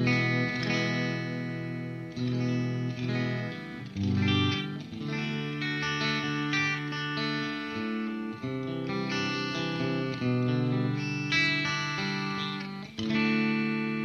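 Electric guitar played through a BluGuitar Amp1 Iridium amp with its onboard reverb and a touch of delay, clean chords and melodic lines ringing out steadily with a spacious reverb tail, no talking.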